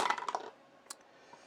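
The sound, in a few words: rolling five dice in a board game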